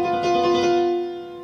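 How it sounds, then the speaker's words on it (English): A tritone is struck on a piano, two notes sounding together and ringing on clearly and alone before slowly fading. "A tritone sounds like this,"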